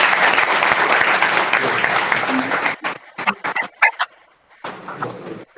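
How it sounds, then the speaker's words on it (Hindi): Schoolchildren clap loudly at a school ceremony in a hall: a dense burst of applause that thins into scattered individual claps, drops to a brief silence, then swells again. "बच्चे जोर से ताली बजाएंगे।"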